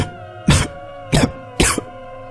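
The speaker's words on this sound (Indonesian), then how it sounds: "Suara batuk." A man coughs three times in sharp, rough bursts about half a second apart, close and clear over a faint steady background tone.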